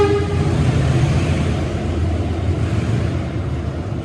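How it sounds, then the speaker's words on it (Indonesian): A train passes close by on an Indonesian rail line, a loud, steady rumble of wheels and cars that holds for the full four seconds, with a brief horn tone at the start. "ada kereta lewat."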